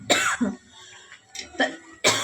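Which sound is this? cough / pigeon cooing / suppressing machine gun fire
cough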